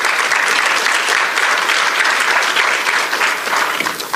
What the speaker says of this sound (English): Give her a round of applause for our friend Karen.